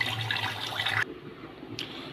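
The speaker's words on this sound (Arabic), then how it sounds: "اضيف الميه المغليه بقى للبسله" Boiling water poured into a pot of peas for a lamb and pea tagine, heard as a steady, close rushing pour lasting about a second that cuts off abruptly, followed by quiet room tone and a faint brief clink.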